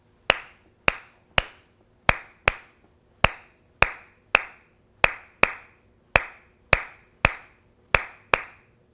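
Sharp hand claps repeating a syncopated three-then-two pattern, crisp and close, with nothing else playing.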